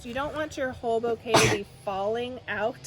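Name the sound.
sneeze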